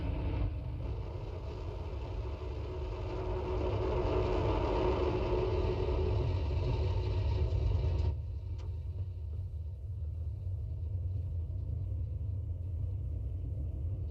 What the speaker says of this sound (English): there the engines are getting ready to fire